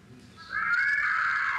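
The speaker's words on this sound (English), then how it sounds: "That's my cat. She set off the motion alarm." A cat meows into a home motion alarm. One long, loud, drawn-out meow swells after a soft start and holds steady to the end.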